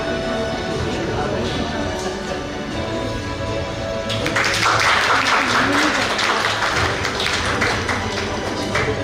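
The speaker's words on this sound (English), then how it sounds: "With a thundering applause, let's invite Miss Pia Sharma, Principal, Ryan Internation" An audience at a school award ceremony claps for an honoree, a burst of applause rising midway over a background voice and continuing to the end.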